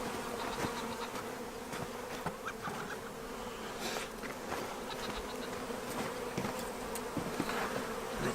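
Bees buzz steadily in an outdoor bee yard, a continuous close swarm hum with individual insects passing near, and no talk.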